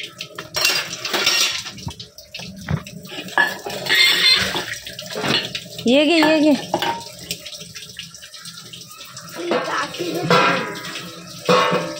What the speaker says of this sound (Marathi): हा नळ बंद कर, बंद कर नळ.